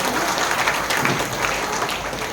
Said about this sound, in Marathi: आयोजकांसाठी एकदा जोरदार टाळ्या वाजवा